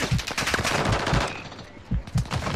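Rapid automatic gunfire in a Call of Duty match, loud bursts of machine-gun fire crackling in quick repeated volleys with brief gaps, close and dense throughout.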